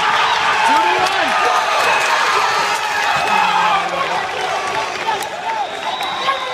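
A crowd at a college dodgeball match, MSU against VCU in the 2018 nationals round of 16, roars and cheers steadily throughout, with a commentator's voice heard over the noise.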